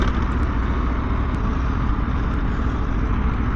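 Aprilia RSV4 1100 Factory motorcycle engine running steadily, a loud continuous idle-like drone with dense low-end rumble that holds evenly throughout with no revving or pauses.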